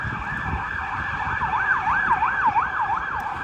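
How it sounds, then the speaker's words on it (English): A wailing emergency siren rises and falls in repeated sweeps, fairly close, over the low rumble of passing traffic. "just excuse the siren"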